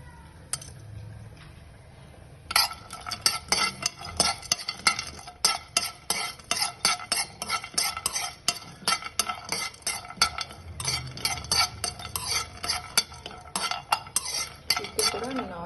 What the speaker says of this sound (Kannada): ತುಪ್ಪ ಕೂಡ ಹಾಕಿಲ್ಲ, ಸುಮ್ಮನೆ ಫ್ರೈ ಮಾಡ್ತಾ ಇದ್ದೀನಿ